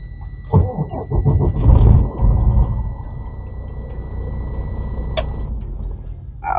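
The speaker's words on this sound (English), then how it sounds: "Let me go ahead and start the truck up" A Freightliner Cascadia truck engine cranks in a quick pulsing burst, catches with a loud roar, then settles into a steady idle close by.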